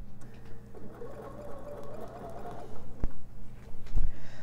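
A sewing machine runs a serpentine quilting stitch along a seam, giving a steady, close mechanical whir with a couple of soft knocks near the end.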